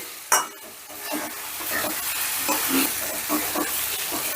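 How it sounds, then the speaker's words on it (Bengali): Potatoes and ground roasted peanuts being stirred and sautéed with spices in a pan for a lentil-based potato curry: a sharp clank at the start, then a continuous sizzle with rhythmic scraping stirs, close up, no voices. "এবার আলু আর বাদামটাকেও বেশ ভালো করে মশলার সাথে কষিয়ে নেব"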